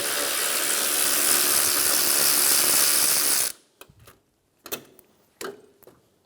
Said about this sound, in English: Remove the 10mm bolt for the air box.